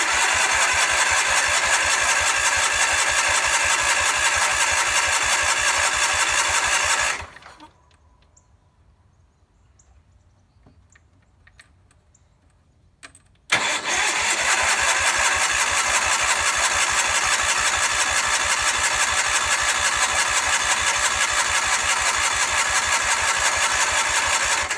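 A 1976 Sears SS16 garden tractor engine with gas squirted into the carburetor cranks in a loud, steady rhythmic whir, pauses for several seconds of near silence, then cranks again without catching.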